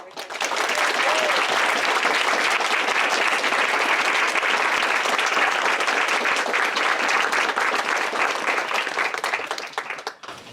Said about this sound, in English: help me in leading for a big round of applause for all of your parents